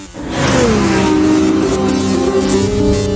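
A race car's engine surges loud and close as it accelerates out of a Lamborghini's slipstream on the Odawara Pikes Peak mountain course, revs rising then holding a sustained high note.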